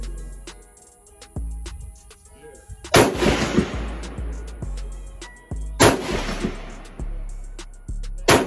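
Two sharp, very loud rifle shots crack at a 100-yard shooting competition target, each followed by a ringing decay, with quieter thumps and clicks in the gaps between them.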